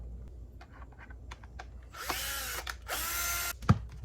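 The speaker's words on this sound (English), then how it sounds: "you want to remove some screws to the housing" Two bursts of a power drill whirring, each about a second long, removing housing screws from a leaf blower, with a sharp mechanical clack near the end; no talking.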